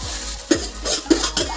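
Rice being tipped into a pan and stirred for Bengali fried rice, with a few soft scraping strokes and light clinks of a spoon against the pan, close and fairly quiet, no talking.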